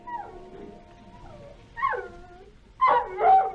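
Dog whimpering in a garage, a radio comedy sound effect from a 1955 show: several drawn-out whines and yelps rise and fall, faint at first, then louder near the end, with no voices.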